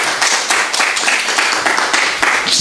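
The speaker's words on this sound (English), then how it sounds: "Can we welcome him with a loud applause?" An audience claps to welcome the chairman of the Karnataka Christian Development Council, loud close-up clapping with distinct individual hand strikes in a quick, uneven rhythm over a brief stretch.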